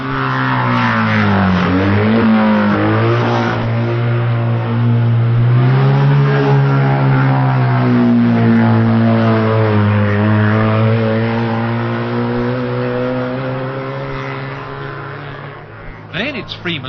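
Racing motorcycles at the 1965 Isle of Man TT rise and fall in pitch as they round the hairpin, engines droning loudly and sustained before fading, under a commentator's voice.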